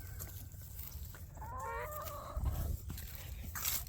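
Chickens on a homestead mini-farm cluck and trill softly at close range, with one brief rising call in the middle, over a faint outdoor background.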